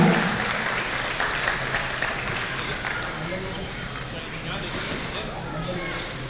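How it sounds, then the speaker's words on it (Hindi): Applause at a Meena community gathering and biennial convention, a dense, loud crowd clapping that starts strong and carries on steadily, with speech babble mixed in. "जोरदार तालियां।"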